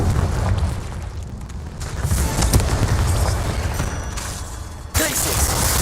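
Confringo blasting spell fired inside a cave in Hogwarts Legacy: loud, rumbling explosive bursts under a dense game-combat bed, with a sharper blast near the end.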